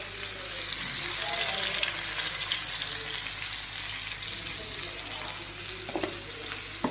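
Raw mango mixture with turmeric, coriander powder, garam masala and salt stirred in a pan, a steady soft sizzle with scraping spoon strokes, fairly quiet, plus a couple of sharp clinks.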